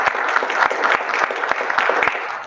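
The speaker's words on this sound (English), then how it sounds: "Can we give them a round of applause" Attendees at a Board of Alders meeting give a steady round of applause, many hands clapping together continuously, with a few sharper individual claps standing out.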